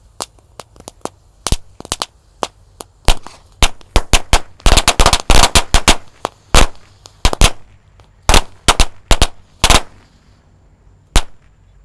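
Many firecrackers and petasan set off for Ramadan, popping in rapid irregular bursts with a dense crackling flurry in the middle and scattered sharp bangs before and after, loud and close.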